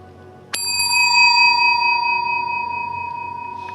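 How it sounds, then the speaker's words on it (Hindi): A single bright ding from a desk bell, struck once and left to ring out with a long, slowly fading metallic tone in a quiet room. "वो वहां रखी हुई टेबल की घंटी बजाती है।"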